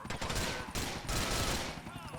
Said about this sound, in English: It's a micro SMG.